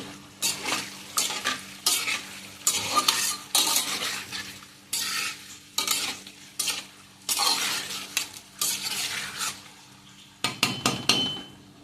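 Egg masala fries in a pan, scraped and stirred with a utensil in quick repeated strokes over a crackling sizzle, each stroke loud and close, with short pauses between bursts and no voices.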